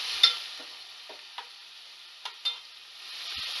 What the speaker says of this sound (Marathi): कांदा आणि टोमॅटो जो आहे तो आपल्याला छानपैकी फ्राय करून घ्यायचा आहे